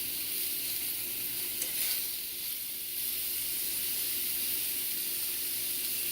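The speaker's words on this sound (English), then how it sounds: "we just have it right now pan searing. So I'm just going to flip it over to the meaty side" Salmon fillet pan searing, a continuous soft hissing sizzle that stays steady and fairly quiet throughout, with a brief louder spatter partway through.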